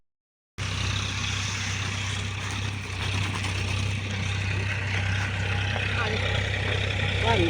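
A tractor engine runs at a steady, loud drone while pulling a plough through a farm field during sowing of wheat, barley and berseem, continuous and close throughout.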